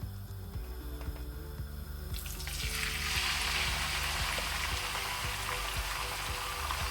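One kilogram of boneless chicken goes into hot oil for a chicken handi, and a faint background hum gives way to a steady, fairly close sizzle that swells about two seconds in and keeps crackling evenly.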